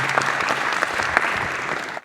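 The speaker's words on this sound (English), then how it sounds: "Can you give a round of applause" Audience applause at a FinOps X 2024 conference session, a dense steady clapping from a crowd lasting about two seconds before cutting off abruptly.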